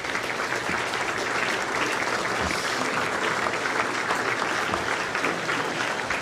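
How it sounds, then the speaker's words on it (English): A room full of people at a city business chamber event applauds city staff, dense continuous clapping at steady volume for several seconds with no talking over it. "I want everybody to give you guys a round of applause."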